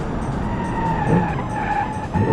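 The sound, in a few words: car braking hard with tires skidding, BeamNG video game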